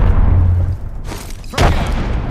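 A frag grenade goes off in a shooter video game, one heavy booming blast up close, followed by a short break and a second burst of noise.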